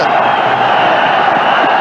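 A big cricket crowd roars steadily during a pitch invasion at a 1992 charity match, a dense, continuous wash of cheering and shouting that holds at an even, loud level throughout.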